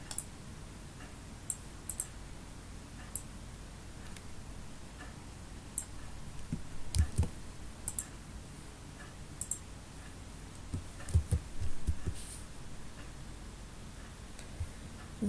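Light keyboard clicks come while a JavaScript Mocha and Selenium test script is being written, with sparse, irregular taps over a steady low hiss and no talking.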